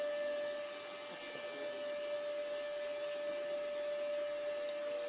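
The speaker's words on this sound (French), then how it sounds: "Donc là, il passe l'aspirateur, le gars." A vacuum cleaner runs steadily with its hose loose or detached, a constant droning whine with a sharp tonal hum that stays even and fairly quiet throughout, with no talking.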